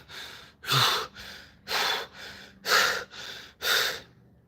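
Controlled, heavy rhythmic breathing during a capoeira training session, with five or six strong, evenly paced breaths, each a loud, close, drawn-out exhale followed by a softer inhale, and no talking.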